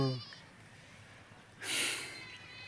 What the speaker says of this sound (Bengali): সমস্ত ছাগল ওই গ্রামের ছাগল আমাদের গ্রামের ছাগল সব এই মাঠেই চড়ে